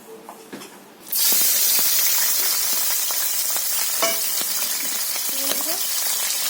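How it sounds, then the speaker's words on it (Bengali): Shrimp hit hot oil in a wok and burst into a loud, steady sizzle after a quiet moment. Light stirring clinks sound over the frying. "তো আমি চিংড়ি মাছগুলো ভেজে নেব বন্ধুরা।"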